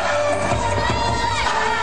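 Crowd noise at an outdoor independent wrestling show on a rainy afternoon, a steady wash of cheering and shouting from a gathered audience, fairly close and continuous with no pauses.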